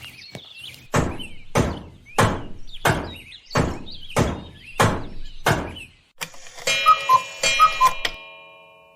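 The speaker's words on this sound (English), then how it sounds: "Okay guys, I'm done boarding up the door." Nine loud, evenly spaced hammer blows on wood, sharp and close, as boards are nailed over a door, followed by clattering and a few lighter knocks.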